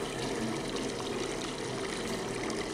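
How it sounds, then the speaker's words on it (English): In Farming Simulator 22, water runs from a spigot into a tank with a steady, continuous splashing trickle, moderately quiet and close, without talk. "So we're going to fill with water because conveniently we have a water spigot located right here."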